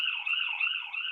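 An alert siren from the Pulsara emergency-response app, a steady electronic wail with a gently wavering pitch that sounds alone and clearly throughout.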